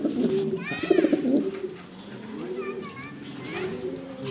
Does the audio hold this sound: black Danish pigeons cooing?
yes